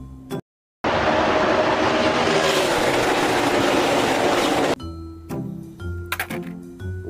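A toy race car plays a loud, dense electronic engine roar that runs for several seconds, then stops and is followed by tinny clicks and short beeping tones.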